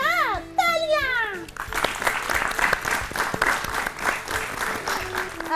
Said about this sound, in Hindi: बिल्कुल सही जवाब, तालियां।